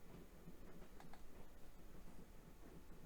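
Train travelling in the Broken Sword video game, a faint steady rumble with light rhythmic rail clatter running throughout, no voices.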